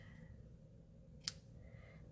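Scissors give a single crisp snip while trimming the end of a ribbon on a handmade birthday card with a box top fun fold, one short cut in an otherwise quiet room.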